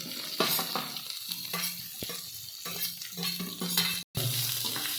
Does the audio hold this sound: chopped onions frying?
yes